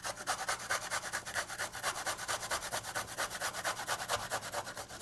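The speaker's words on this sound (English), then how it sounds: "grab a grater and then grate" Ingredients for Asian street food rubbed rapidly back and forth on a hand grater, a close, loud rasping scrape in a brisk, even rhythm of quick strokes with no talk.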